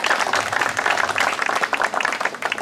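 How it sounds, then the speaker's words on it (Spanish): An audience claps warmly and steadily at a welcome ceremony in the village of Palestina, a dense, close wash of many hands that holds through the whole stretch with a faint voice beneath. "Fuertes palmas para ellos también"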